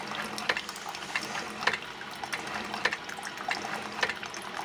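Keurig single-serve coffee maker forcing heated water through a coffee-ground pod, with a steady trickling stream of coffee pouring into a cup and faint intermittent gurgles and spurts, heard close and alone.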